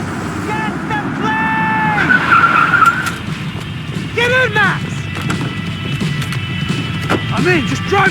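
Tires squeal and skid repeatedly as a car swerves through a chase in Max Payne 3, with loud engine roar and screeching slides recurring throughout, under shouted dialogue.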